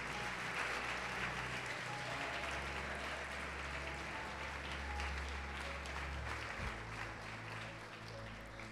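A church congregation claps steadily through a worship service, a dense, continuous wash of applause filling the hall at an even level from start to finish.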